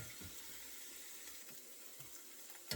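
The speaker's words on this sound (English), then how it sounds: "Let that saute up for a minute." Green onion and ground beef saute in a hot pan for a spinach cayettes dish, giving a soft continuous sizzle with a few quiet stirring scrapes and a sharper clink at the very end.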